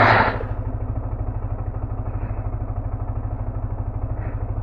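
Motorcycle engine running steadily after warming up before an early-morning ride, a close, loud idle with a fast regular low thumping pulse that continues throughout, following a brief louder burst at the start.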